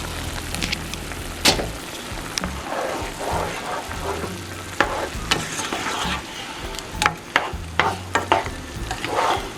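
Shrimp scampi sauce stirred in a pan, with irregular scraping and clinking strokes of the utensil over a steady background sizzle, close and fairly loud, with no talking.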